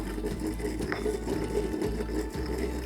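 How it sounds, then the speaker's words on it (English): Whole spice pods crushed to a fine powder, likely with a mortar and pestle, a steady gritty grinding rasp that runs throughout with small bumps in texture, close and fairly loud, with no voices. "you're just going to continue to crush all of that until it becomes quite fine."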